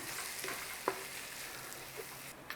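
Whole spices blooming in hot oil for a corned beef curry give off a faint, steady sizzle, with a few soft stirring knocks in a quiet setting.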